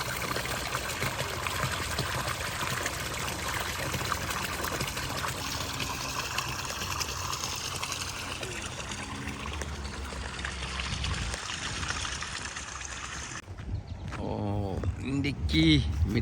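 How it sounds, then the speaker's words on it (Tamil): Water runs and trickles in a stream near a church in Canada, a continuous close gurgling flow that carries on steadily before giving way to other sounds in the last few seconds. "பாருங்க, தண்ணி ஓடுது,"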